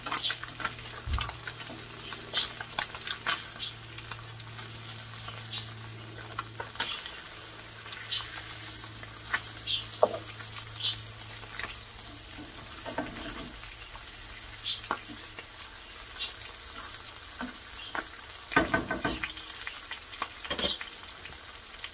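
Branzino seasoned with Himalayan pink salt fries in a pan, a soft, steady sizzle close by with scattered crackles and pops.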